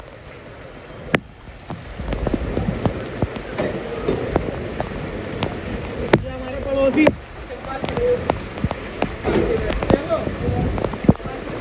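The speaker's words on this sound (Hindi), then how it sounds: "भाई आज का पूरा व्लॉग जो है सिर्फ बारिश में होने वाला है" Heavy rain pours steadily outdoors, a dense continuous hiss with scattered sharp cracks and pops, while someone talks over it close by.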